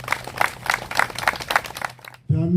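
Audience at a Korean memorial ceremony gives rhythmic clapping for attending guests, steady beats under a low hum, then an abrupt cutoff followed by a sustained tone.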